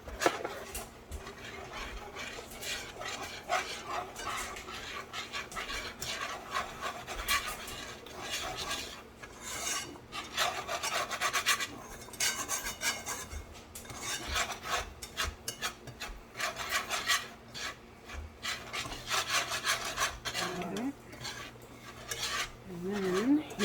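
Spoon scraping and rasping in a pot as all-purpose flour is stirred into creamy chicken noodle soup, a continuous uneven rubbing with faint clinks, close and steady.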